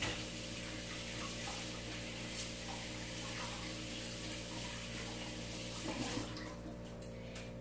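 Small chili peppers are washed under a running kitchen tap, a steady quiet hiss of flowing water with faint splashes and handling sounds, easing off in the last second or so.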